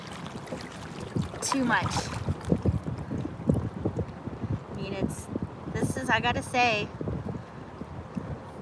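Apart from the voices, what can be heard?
wind while kayaking on a Wilderness Systems Tarpon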